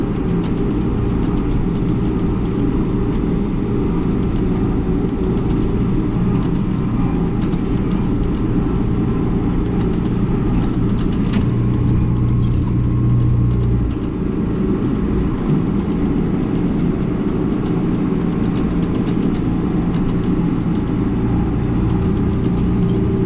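A Hagie self-propelled crop sprayer drives slowly through a rough field of tall crop. A steady, low engine drone holds throughout at a moderate level, with no one talking.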